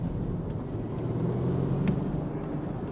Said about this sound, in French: Le véhicule pousse vraiment très fort,